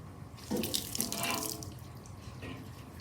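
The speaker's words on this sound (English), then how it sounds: "we want to go ahead and water everything in really well." Water pouring from a hose or can onto soil and plants in a fall container planter, a soft splashing rush that swells, fades, and returns briefly, heard fairly quietly.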